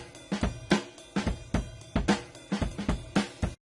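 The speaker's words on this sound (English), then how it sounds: "So I searched and found a acoustic drum loop recorded at 110 BPM." An acoustic drum loop at 110 BPM plays alone: punchy kick and snare hits with bright cymbal wash repeat in a steady, close groove for several bars, then stop abruptly.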